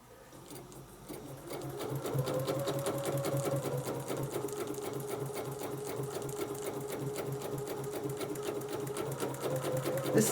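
Sewing machine stitching a quilt guided by a Westalee ruler, a steady rapid needle chatter running continuously and close up with a constant motor hum.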